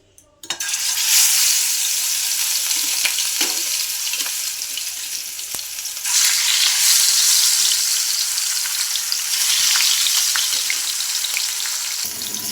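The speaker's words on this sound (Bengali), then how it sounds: "মাছগুলো এইভাবে লাল করে ভেজে নিতে হবে" Katla fish pieces frying in hot mustard oil give a loud, close, dense sizzle that starts abruptly, eases slightly midway and then swells again, with occasional sharp spatters and no voices.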